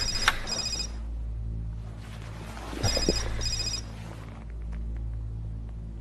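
A landline telephone rings repeatedly in a home, two bursts of bright electronic ringing with a low steady hum underneath, fairly close and with no talk over it.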